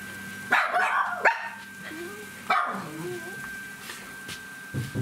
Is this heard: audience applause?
no